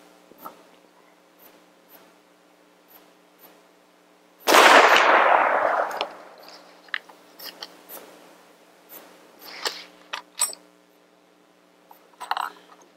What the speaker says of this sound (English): I'm going to go ahead and shoot these last two.